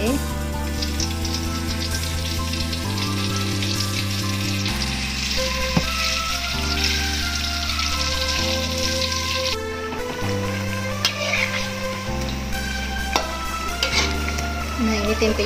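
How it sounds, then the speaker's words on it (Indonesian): Oil sizzles and crackles steadily as tempeh fries in a pan, a continuous hiss with occasional pops, while music plays underneath throughout. "sebagai pelengkap aku mau goreng tempe"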